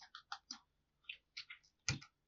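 Keys on a computer keyboard tapped while typing HTML code: roughly ten light, separate clicks in small irregular groups with short pauses between them, faint and close, with no talking.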